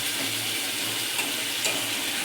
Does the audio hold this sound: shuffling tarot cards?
no